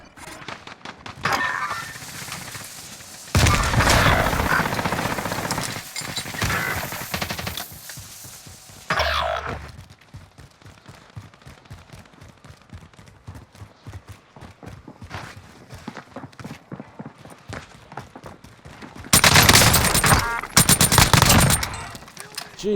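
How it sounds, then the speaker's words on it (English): Nail gun firing in the Call of Duty Cold War Warzone video game on the Rebirth map: loud, rapid bursts of sharp shots in long runs, with quieter stretches of scattered impacts between them. "this nail gun rocks"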